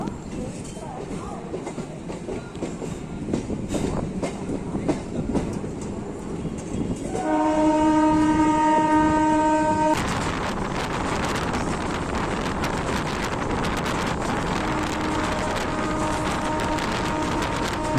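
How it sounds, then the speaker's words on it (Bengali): A passenger train on the Howrah–Tarakeswar line rumbles and clatters along the rails leaving Sheoraphuli Junction. A long horn blast sounds partway through, then the steady rolling noise continues. "আমাদের ট্রেন ছেড়ে বেরিয়ে যাচ্ছে শ্যাওড়াফুলি জংশন"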